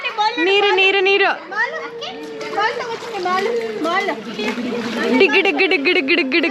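Young children shriek and chatter while water splashes around them at a family villa in North Goa, their high voices close and lively throughout, with bursts of splashing mixed under the playful shouting.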